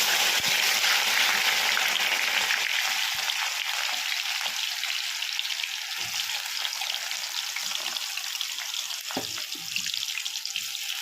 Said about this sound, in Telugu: నేను కాకరకాయ ముక్కలు అనేది వేసేసుకున్నానండి. ఇప్పుడు ఇది బాగా ఫ్రై అవ్వాలండి.